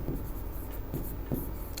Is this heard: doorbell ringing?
no